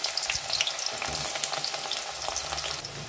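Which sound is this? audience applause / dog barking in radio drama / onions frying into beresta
onions frying into beresta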